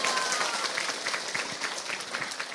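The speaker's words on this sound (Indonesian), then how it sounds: "tepuk tangan dulu dong" An audience at an Islamic religious gathering in Indonesia bursts into applause, a dense, steady crackle of many hands clapping close by, loud and continuous throughout.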